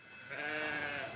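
A single drawn-out bleat from a sheep or goat, moderately close and fairly faint, rises and holds over quiet outdoor background.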